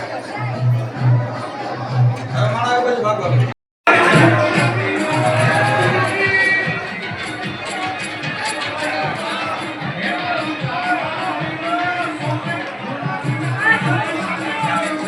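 Dense crowd chatter at a Sonal Maa festival gathering, many voices babbling together close by and steadily throughout, with one brief dropout near the start.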